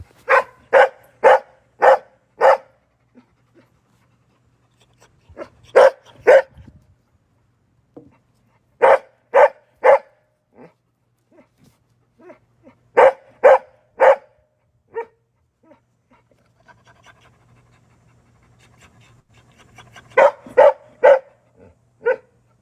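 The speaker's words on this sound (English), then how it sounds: "Bark all you want." A dog barks in repeated bursts of several sharp barks each, loud and close, with quiet gaps and low whimpering or panting between the volleys.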